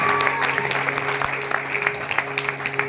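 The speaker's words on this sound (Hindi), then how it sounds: "एक बार इनके लिए जोरदार तालियां" Audience at a live mind reader's stage show in Delhi claps steadily for a performer, a dense, continuous patter of hands with a few louder individual claps and faint crowd murmur.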